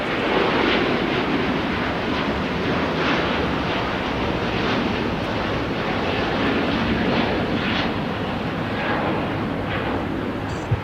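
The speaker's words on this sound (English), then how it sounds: "this is Qatar Airways 69 on an Airbus A350 1041" Qatar Airways Airbus A350-1000 rolling for takeoff at LAX, a loud, sustained, roaring engine drone with broadband rushing noise and some wind buffeting, continuous throughout.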